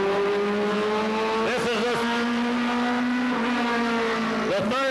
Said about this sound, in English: Eddie Pearson, ladies and gentlemen, on the track right now to take his qualifying times in that Swisher Sweet Cigars Pontiac